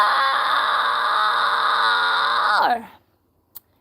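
A growling vocal fry scream, sung in a metal style at a deliberately restrained volume, holds steady for about two and a half seconds, then drops off into near silence with one brief click after.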